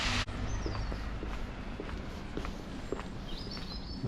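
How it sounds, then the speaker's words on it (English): Footsteps tap steadily along a quiet residential street in Mostar, Bosnia and Herzegovina, close and clear, while small birds chirp intermittently in the background. "You can hear the birds, you can hear my footsteps, I'm sure."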